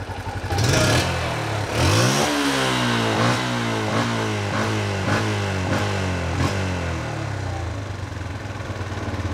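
A Yamaha Jupiter MX motorcycle engine close by, revved hard several times in a row, its pitch climbing and falling with each twist of the throttle.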